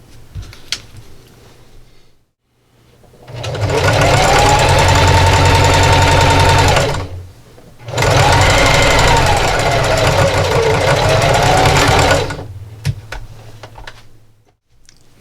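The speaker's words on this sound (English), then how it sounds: "I'm going to take this back over to my sewing machine and I'm going to sew down this other edge of our zipper" A sewing machine stitches down the second edge of a zipper on a St. Patrick's Day fabric treat bag, running in two loud sustained bursts of about four seconds each, separated by a short pause and framed by quieter stretches.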